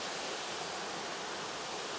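Water pours steadily down into a dam spillway at a lake, a constant broadband rushing hiss with no breaks, moderately loud and with no voices over it.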